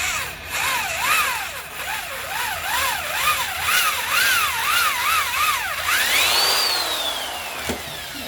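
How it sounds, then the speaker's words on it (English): A power drill boring a pilot hole for a homemade clothes hanging rack, its motor whine wavering rhythmically in pitch, then revving up and spinning down near the end, close and alone. "Drilling a pilot hole."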